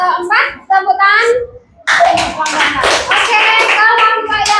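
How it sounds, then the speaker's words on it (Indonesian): Children clap in a classroom after a group presentation, a burst of brisk rhythmic claps following a short pause, mixed with young voices talking and calling out. "tepuk tangan"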